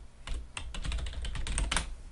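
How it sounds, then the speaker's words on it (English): Fingers tap out a web address on a computer keyboard, a quick close flurry of soft clicking keystrokes lasting about two seconds with no voice over it. "Let me go ahead and type in"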